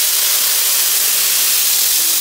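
Masala for a chicken curry sizzles and fries in a hot pot over an open fire outdoors, a steady, close, loud hiss that runs continuously without any talk.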